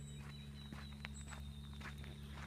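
Steady footsteps crunch on a dirt road at an even walking pace in the countryside, fairly quiet, over a constant low hum with faint insect noise.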